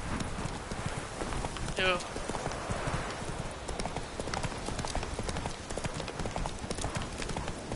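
In The Witcher 3, Roach's galloping hooves clip-clop in a steady, driving rhythm, loud and close, with a brief spoken exclamation and a short whinny-like sound early on.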